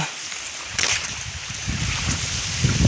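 Wind blows steadily outdoors near a water-filled field being irrigated, a broad rushing noise with gusts swelling midway and again near the end.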